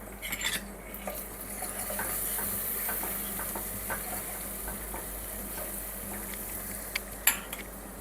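Fresh ginger garlic paste is stirred as it fries in a pan, with soft continuous sizzling, light scraping and occasional utensil clicks against the pan, quiet and close, with no talking.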